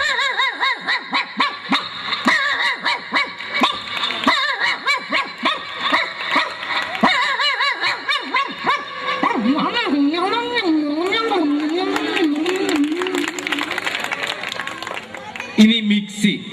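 A comedian on stage imitates a native stray dog, voicing a series of yelps, howls and whining barks with rising and falling pitch, close and loud, with light audience chuckles in the background.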